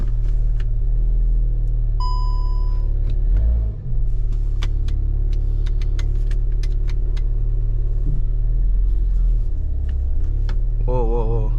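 Volkswagen Golf MK7 GTI engine running steadily with a low rumble and brief dip near four seconds, a warning chime sounding early, and a short voice at the end.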